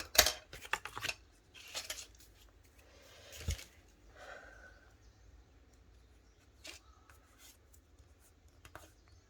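Scissors snip paper for a bookbinding album corner, a few short crisp cuts near the start followed by quieter scattered rustles and clicks, close and faint, no talk.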